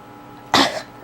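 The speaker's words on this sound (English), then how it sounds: "cough for me. Really hard." A single hard cough from a woman being examined in a medical setting, one sharp close burst lasting about a quarter second before trailing off into quiet.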